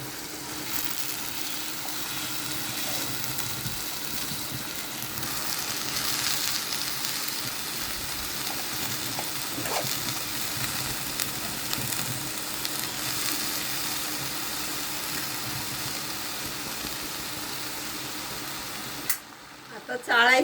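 Dill, spinach and raw mango vegetables go into a hot pan, producing a steady, close sizzle that runs evenly throughout before a brief clatter at the end.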